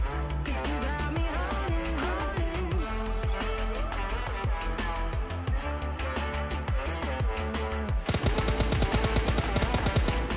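Rapid bursts of gunfire from a PUBG Mobile Lite match, close and loud, with dense repeated shots that quicken into a sustained rattling volley near the end.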